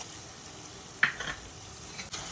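Spices stirred in a pan for puliyogare gojju, with turmeric, cumin powder and sesame seeds: a couple of brief scraping strokes over a soft, steady sizzle, with no talking.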